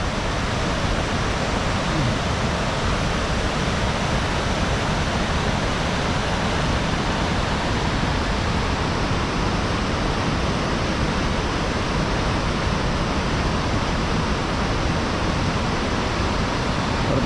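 Salto Chico waterfall in Torres del Paine, Patagonia, roaring as a loud, steady broadband rush of falling water that stays constant throughout, with no other sounds standing out.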